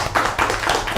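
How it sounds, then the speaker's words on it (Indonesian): Brief burst of several hand claps in a meeting room, applauding a housing developer during a ministerial session, close and sharp over about a second. "Bapak cerdas, tepuk tangan nih buat dia."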